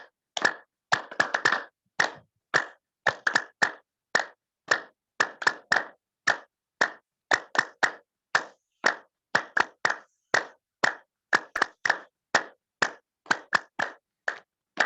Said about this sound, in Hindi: ये पहली ताली हुई, अब दूसरी ताली